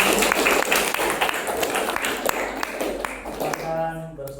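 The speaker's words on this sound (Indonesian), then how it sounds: "kita beri tepuk tangan untuk" Audience applause after a school debate in a classroom, a dense wash of clapping that continues steadily and fades near the end, with a few voices mixed in.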